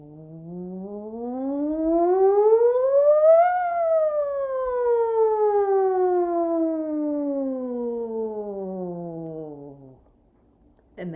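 A voice imitates a siren with a lip buzz, a single long buzzing tone sliding up then gradually down, loud and close, ending abruptly.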